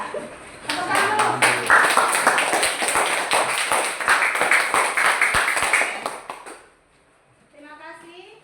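A classroom of students claps together for several seconds, a dense run of sharp hand claps that stops abruptly, followed by a voice speaking.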